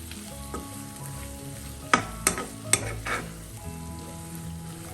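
Prawns and small onions stirred and frying in a pan, a steady sizzle with a few sharp clinks and scrapes of a spoon against the pan midway, close and alone.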